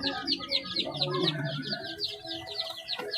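Chickens at a coop cluck in a rapid, repeated chatter close by, with a low background murmur that may be a distant voice.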